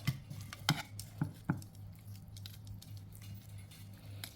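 Marinated chicken pieces tossed with oil in a bowl, giving soft wet squishes and light clinks of a utensil against the dish, close and quiet with no talking.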